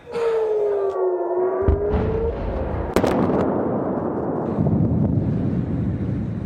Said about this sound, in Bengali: বেজে ওঠে সতর্কতামূলক সাইরেন